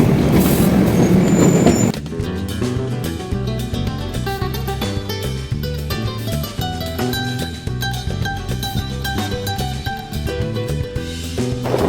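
A special passenger train passes close alongside, with rhythmic wheel clatter, rumbling carriages and a steady metallic drone following a brief burst of wind noise at the start, heard from aboard a moving train.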